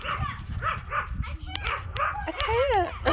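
Two small dogs bark and yip while playing outdoors, a rapid run of close, high yaps and whines with people talking and shouting over them.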